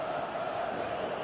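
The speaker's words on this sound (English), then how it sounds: "Crowd reaction tells you just how close that was." A virtual stadium crowd in the football game PES 18 roars in reaction to a near-miss shot on goal, a brief, steady wash of distant cheering without clear speech.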